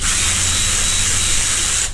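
A power drill fitted with an 11/32 bit bores holes in a plastic container, giving a loud, steady high-pitched whine that runs without a break for about two seconds and then cuts off abruptly.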